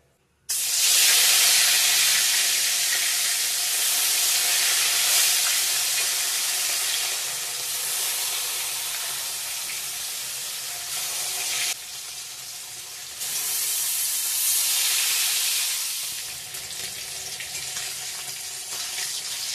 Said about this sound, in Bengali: তেল গরম হয়ে গিয়েছে, মাছগুলো দিয়ে দেব এখন একটা একটা করে।